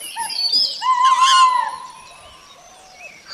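A cartoon parrot gives a few bright, warbling chirps and tweets, close and clear, then trails off into quieter calls.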